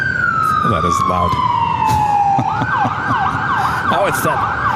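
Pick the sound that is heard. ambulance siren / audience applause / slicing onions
ambulance siren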